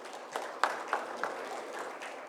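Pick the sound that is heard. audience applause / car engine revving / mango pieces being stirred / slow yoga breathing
audience applause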